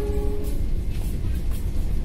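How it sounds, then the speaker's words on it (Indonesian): Pramex Kutoarjo-Yogyakarta passenger train rumbles past with a steady low roar, a short horn tone at the start, loud and continuous throughout. "Dari jauh satu ini adalah rangkaian kereta api Pramex Kutoarjo Yogyakarta."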